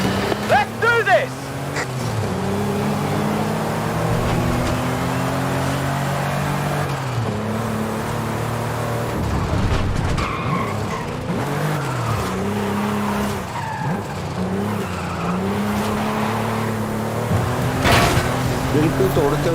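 Racing car in the video game Forza Horizon 5, its engine revving and shifting up and down with tire squeals and skids. It plays loud and continuous, with a person talking over parts of it.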